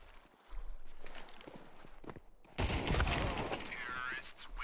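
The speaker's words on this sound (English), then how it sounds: "Bialani delivers the headshots as well" Rapid gunfire and headshots in a Counter-Strike tournament match: sharp shot cracks that build into dense, loud bursts of fire, heard under a commentator's voice.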